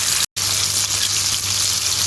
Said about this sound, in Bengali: মাছগুলো দিয়ে দিলাম আর আমি একটু মাছগুলোকে ভেজে নেব